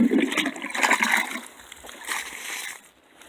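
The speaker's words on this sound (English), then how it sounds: "you're just going to pour this slurry" Morel mushroom slurry poured from a can onto the ground outdoors, a close splashing, sloshing pour that is loudest at first and tapers off in uneven spurts.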